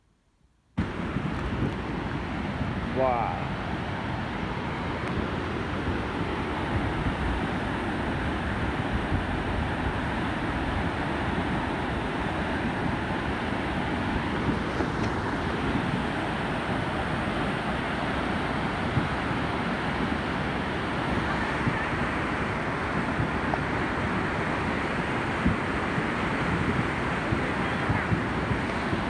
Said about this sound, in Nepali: त्यो खोलाको साउन्ड हेर्नुहोस् त